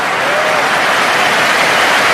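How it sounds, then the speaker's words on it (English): Stadium crowd at the National Arena in Bucharest during a Switzerland versus France football match applauds with a loud, dense, steady wash of clapping and cheering that fills the whole stretch without letting up. "Applause all around the National Arena in Bucharest."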